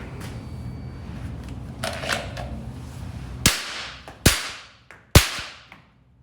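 Three sharp live-fire gunshots from a vehicle during a security guard defensive shooting drill, spaced about a second apart, each loud with a ringing decay over a low rumbling idle and faint clatter.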